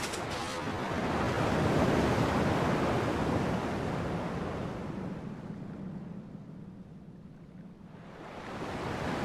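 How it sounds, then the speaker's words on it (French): Ocean waves wash onto the shore in the video game Kingdom Hearts 2, a broad steady surf roar that swells, recedes and builds again, heard alone with no talk. "Le bruit des vagues est le même ici."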